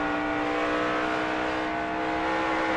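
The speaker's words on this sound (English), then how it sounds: "On board with Carl Edwards in the Aflac Ford." A Ford NASCAR Cup race car recorded on board at Michigan in 2009, its engine holding a loud, steady high-pitched drone with little variation across the short stretch.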